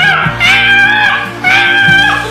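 A person imitates a small chicken caught in a fence, giving two long, thin, squeezed cries one after the other, close and loud, with a short breath between them.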